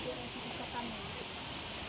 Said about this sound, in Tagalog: Grabe dagan silang tubig no.